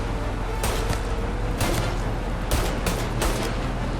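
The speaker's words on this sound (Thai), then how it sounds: "เฮ้ยเสียงปืน" Gunfire in the video game Mafia Definitive Edition, several sharp shots and short bursts cracking over a steady engine-like background drone, fairly close and loud.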